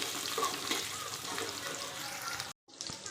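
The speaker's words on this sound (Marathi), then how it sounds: "छान अशी फ्राय करून घेऊ।" Green chillies fry in oil in a kadhai for sabudana khichdi, a steady close sizzle filling the clip before a brief cut to silence and a short return of frying.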